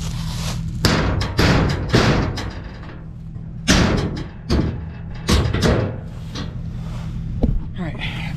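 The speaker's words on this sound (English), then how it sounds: "Doors are shut." Doors shutting near a truck parked out front, several sharp thuds and slams spread over a few seconds, with a person talking in between.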